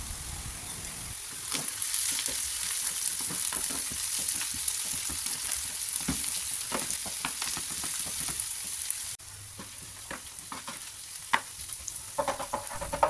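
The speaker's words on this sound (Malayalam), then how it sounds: "ഇനി നേരത്തെ കട്ട് ചെയ്ത് വെച്ച ഉള്ളി ഇതിലിട്ടൊന്ന് ബ്രൗൺ കളറാവണ വരെ ഒന്ന് വയറ്റി കൊടുക്കാം" Sliced onions frying in sunflower oil for a fish biryani, a continuous close sizzle with repeated stirring scrapes and clicks, briefly quieter toward the end.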